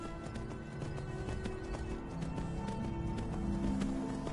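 Horse hooves clip-clopping at a gallop in the Skyrim video game, a steady rapid rhythm of hoofbeats running over background music, with a brief neigh.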